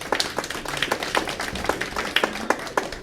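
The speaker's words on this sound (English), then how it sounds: "Clap your hands if you voted." Scattered hand claps from a comedy club audience in Seattle, a thin, irregular patter of individual claps rather than full applause, fairly close and without talk.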